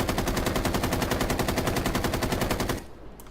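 An automatic rifle in Rainbow Six Siege fires a fast, even stream of shots for nearly three seconds, loud and close, then stops abruptly, leaving a faint quiet tail.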